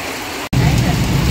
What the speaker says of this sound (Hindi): देखो कैसी बारिश हो रही है तकड़ी वाली बारिश लगी हुई है